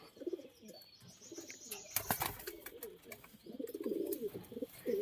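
Racing pigeons and young squabs in a loft coo in soft, rolling low calls, close and repeated in clusters, with a sharp flapping or clattering burst midway and quiet rustling between coos.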